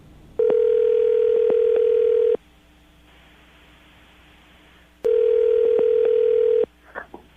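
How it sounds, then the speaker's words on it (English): Steady telephone dial tone in a radio studio, two loud sustained bursts separated by a quiet gap with faint hiss, ending with a brief soft click. "I'm going to dial the phone number right now, get her on the phone"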